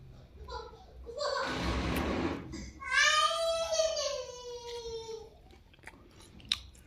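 Someone eats homemade pav bhaji with a brief crunchy, wet chewing burst close to the mic, followed by a long, drawn-out humming voice of appreciation and faint mouth sounds at the end.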